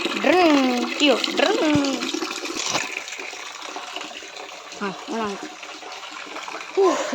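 Water is poured steadily into a container to fill it, making a continuous rushing splash that runs throughout while a person talks over it.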